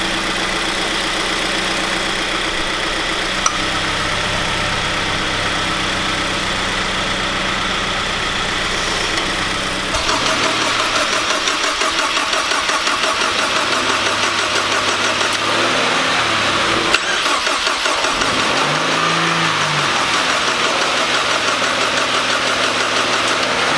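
A Ford EcoBoost engine, jump-started from an FRS, idles at first, then catches or revs up about halfway through and keeps running steadily and loudly with a rough, knocking mechanical rattle.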